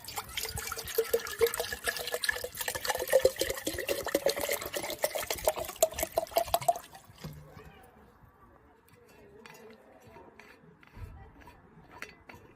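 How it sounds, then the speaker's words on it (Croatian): Lukewarm water, about a litre, pours steadily and loudly for several seconds, then stops, leaving faint clinks and handling noises of a home kitchen. "Uzmete 1 litru mlake vode."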